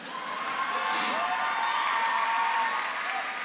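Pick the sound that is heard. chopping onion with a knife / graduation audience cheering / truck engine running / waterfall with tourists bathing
graduation audience cheering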